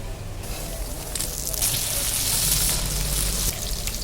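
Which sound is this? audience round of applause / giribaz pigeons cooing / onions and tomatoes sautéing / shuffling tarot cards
onions and tomatoes sautéing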